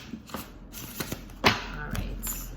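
Tarot cards being shuffled by hand, a series of soft taps, riffles and thuds at an uneven pace, close and fairly quiet.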